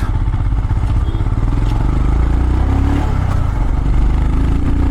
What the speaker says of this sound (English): this has a 440cc engine. Has an amazing pickup.